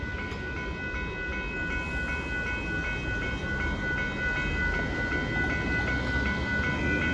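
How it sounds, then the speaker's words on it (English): A northbound CSX freight train of gravel hopper cars led by locomotive 777 passes a road crossing in Austin, Texas, making a steady, loud rolling rumble with faint metallic tones and no voices. "a gravel hopper car train at Dearborn Road"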